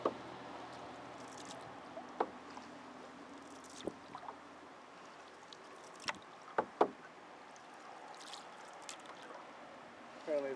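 A canoe paddles along the Black River near Glenfield, New York, with soft water swirl and occasional knocks of paddle against hull over a faint steady road rumble, all quiet and close.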